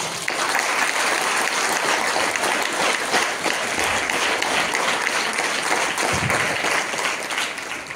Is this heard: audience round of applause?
yes